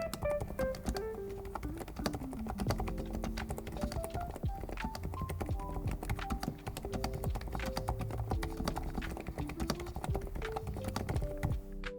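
Rapid typing on a mechanical keyboard with Void linear switches, a quick stream of soft, smooth keystrokes clacking close up with a steady rhythm.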